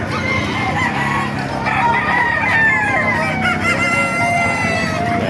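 Many chickens cluck and roosters crow together in a busy, crowded poultry market in Baliuag, Philippines, a constant dense din with overlapping calls.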